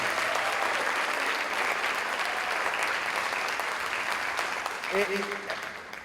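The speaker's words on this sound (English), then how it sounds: "Please give her a big round of applause." Audience applause at a senior academic awards ceremony, a dense wash of clapping from a crowd that runs throughout, with a brief voice near the end as it begins to fade.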